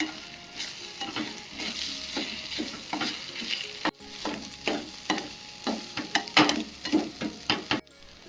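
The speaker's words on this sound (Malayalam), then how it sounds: "ബീട്രൂട്ടും മുട്ടയും കൂടെ നന്നായിട്ടൊന്ന് ഇളക്കി യോജിപ്പിച്ച് കൊടുക്കാം." Beetroot and egg stir-fry being stirred in a pan, with a steady sizzle under repeated scraping strokes of a spoon against the pan, close and alone with no talk.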